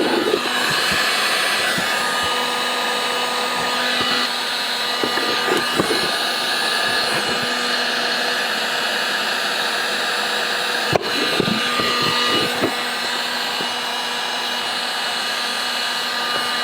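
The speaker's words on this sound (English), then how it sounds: "we got our Milwaukee heat gun, and let's shrink it up." A battery-powered Milwaukee heat gun blows with a constant, loud fan whoosh and whine while shrinking tubing onto a shovel handle, with a few faint knocks and handling clicks partway through.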